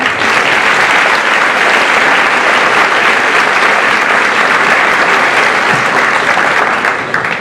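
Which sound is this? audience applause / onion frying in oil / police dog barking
audience applause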